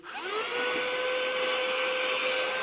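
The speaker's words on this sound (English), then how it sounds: "Let's just hoover." Vacuum cleaner hoovering up debris from a model locomotive workbench, switching on with a rising whine and then running loud and steady with a constant high-pitched motor tone.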